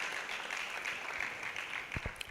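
Audience applause at a World Environment Day ceremony after a speech, with a fairly light, even patter of clapping and a few sharper claps near the end.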